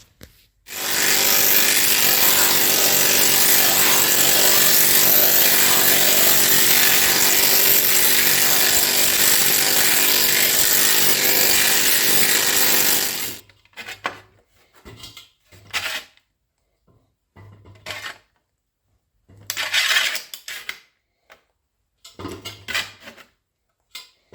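A planishing hammer smooths and shapes a sheet metal panel with a loud, continuous rapid hammering for about thirteen seconds, then short scattered bursts of tapping follow.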